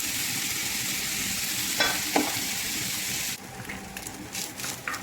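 Cold leftover rice stir-fried in a pan for rainbow fried rice, a steady loud sizzle with a couple of scraping stirs before the frying noise drops lower and continues.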